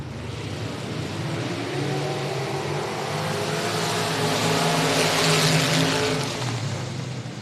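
Race cars roar off the start at Boothill Speedway, a loud, dense wall of engine noise from several cars revving and accelerating together, swelling steadily and staying near with no pauses.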